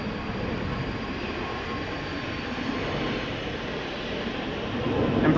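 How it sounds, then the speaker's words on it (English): An easyJet airliner takes off at Schiphol's Polderbaan, a sustained jet-engine roar with a deep rumble that holds steady and then grows louder toward the end. "easyJet also takes off."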